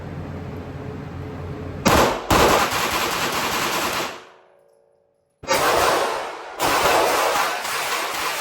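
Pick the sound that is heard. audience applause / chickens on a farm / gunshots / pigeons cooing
gunshots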